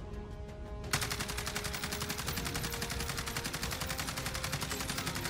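AUG rifle fired at a wall in Call of Duty Warzone: after a moment of quiet, a sustained rapid automatic burst starts and rattles on without pause, loud and close.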